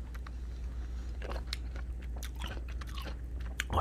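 Someone bites into and chews a crunchy fried snack close up. Quiet, irregular crisp crunches repeat over a low background hum.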